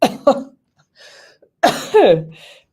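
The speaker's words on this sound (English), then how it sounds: "I get the cough around her as well." A person coughs twice in quick succession, then again more heavily after a pause, loud and close, with faint breathy sounds between.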